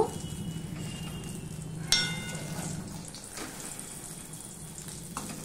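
Eggs fry for omelettes in a pan with a steady, soft sizzle throughout, broken by a single sharp clink near the start and a faint tap near the end.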